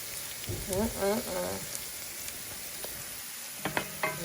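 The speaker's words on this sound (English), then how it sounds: "we're gonna go ahead and add our 2 pounds of ground beef" Ground beef sizzles and fries in a pan with onions while stuffed peppers are being made, a steady crackle joined by brief stirring scrapes and a few tonal clinks near the end, with muffled talk early on.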